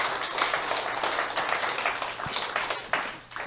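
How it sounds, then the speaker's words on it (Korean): Audience applause at a side-business success seminar, dense and continuous clapping from a crowd that stays steady for a few seconds with some louder individual claps near the end. "박수 한번 부탁드릴게요"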